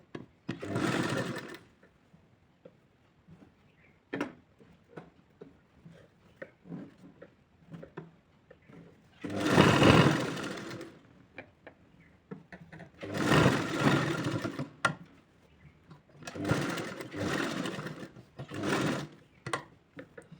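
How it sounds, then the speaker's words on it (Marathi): A sewing machine stitches the top seam of a baby blouse made from leftover fabric, whirring in four or five loud, close bursts separated by quiet pauses. "ही वरची जी शिलाई आहे ती मारून घेणार आहोत"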